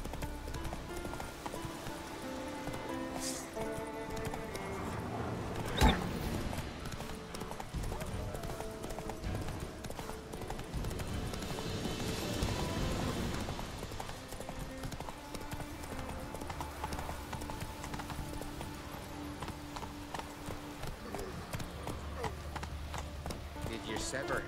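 Roach, the horse in The Witcher 3, gallops in a rapid, continuous clip-clop of hooves under game music, with a voice speaking over it.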